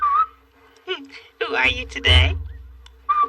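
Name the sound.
person whistling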